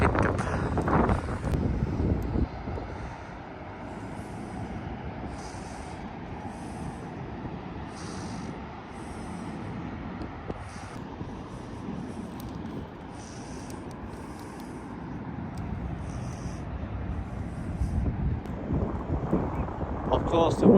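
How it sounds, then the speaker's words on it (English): Wind buffets the microphone on a blustery beach at Blackpool, a continuous low rumble with stronger gusts at the start and end, while people talk over it. "It's still windy"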